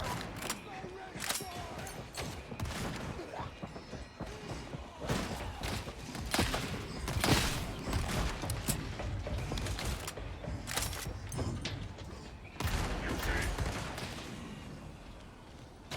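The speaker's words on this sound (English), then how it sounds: "Who's shooting at me?" Enemy gunner fire in the video game Darktide, heard as sharp shots and bursts of thuds scattered through the clip under frequent talk and combat noise.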